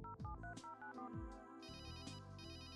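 Mobile phone ringing during a call to Willy's cellphone in the adventure game Runaway, a repeating electronic ringtone with bright, stacked tones in short patterned bursts, clear and close.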